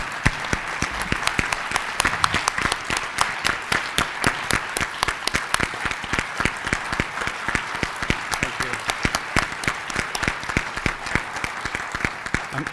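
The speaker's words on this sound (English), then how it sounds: "if we could give him a round of applause" A crowd at a disability summit gives a loud, steady round of applause for Mike Zelli, with dense, close clapping that continues evenly and unbroken from start to finish.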